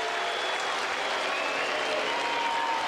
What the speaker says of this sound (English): You can hear the crowd still talking and chanting.